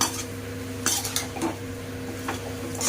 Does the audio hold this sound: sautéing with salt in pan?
yes